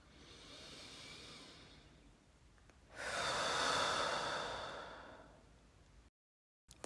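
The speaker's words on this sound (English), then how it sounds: "Inhale and exhale fully." A slow, deep breath at the close of a yoga class: a soft inhale, then a fuller, louder exhale that fades into quiet, heard close and alone.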